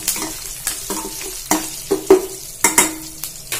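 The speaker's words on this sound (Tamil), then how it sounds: "கருவேப்பிலை, இதெல்லாம் நல்லா ஃப்ரை பண்ணிக்கோங்க" Curry leaves fry in hot oil with a close, crackling sizzle, broken by several sharp knocks and scrapes of a spoon stirring the pan.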